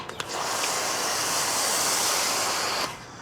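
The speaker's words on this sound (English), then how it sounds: "I'll just foam the front just to give you guys an idea of how this looks." A pressurized foam cannon sprays car shampoo onto a car's front, releasing a steady, loud hiss for a few seconds, then cuts off abruptly.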